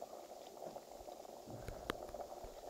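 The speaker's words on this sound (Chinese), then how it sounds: "诡异的开水" Water boiling on a kitchen stove in the horror game Sinister Edge gives a steady, close bubbling churn with scattered pops and one sharp click near the end, alone without talk.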